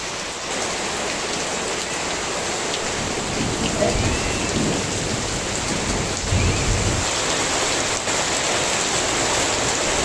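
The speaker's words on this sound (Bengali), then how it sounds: "খুব ভারী বৃষ্টি হচ্ছে এখন।" Heavy rain pours down in a dense, steady hiss during a pre-Eid Kalbaishakhi storm, with low thunder rumbling around the middle; the downpour continues loudly throughout.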